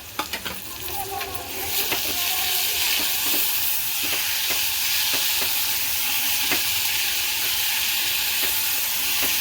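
Onion, green chillies and chopped tomato sauté in oil, a loud, steady hiss of frying with rhythmic scraping strokes of a spoon stirring through the pan.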